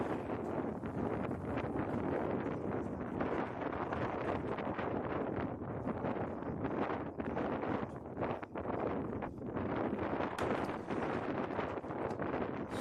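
Wind blows across a junior varsity baseball field, buffeting the microphone with a steady, loud rushing roar that rises and dips in gusts, with no talk over it.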